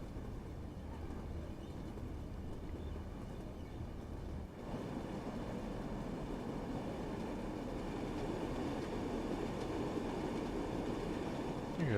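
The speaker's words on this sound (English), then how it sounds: "Let train coast." Train coasting downhill with power off in Train Sim World 5, a steady rolling rumble with rail noise that swells slightly partway through and continues without pause.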